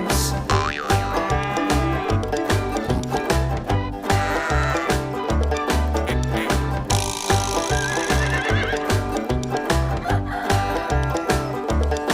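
A horse neighs within a farm animal song, its whinny set over a steady rhythmic musical beat with clip-clop-like percussion and other animal sounds mixed in throughout.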